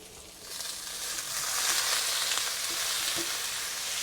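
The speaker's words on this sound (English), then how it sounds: "When the garlic starts to brown like this, we add in our cabbage back." Cabbage hits a hot wok with browning garlic, sending up a loud, rising sizzle that swells and then holds as a steady, close frying hiss with faint stirring scrapes.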